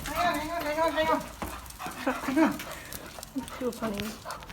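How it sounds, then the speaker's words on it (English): A puppy whimpers and yips in short, high, wavering cries close by, mixed with a person talking softly at home. "Puppy dogs."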